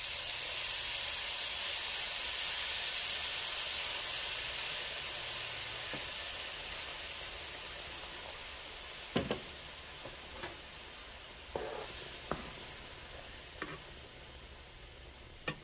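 Turkey meat patties simmer in a pan of Coca-Cola gravy, giving a continuous bright sizzling hiss that fades slightly over time, with a few sharp utensil clicks and taps near the end.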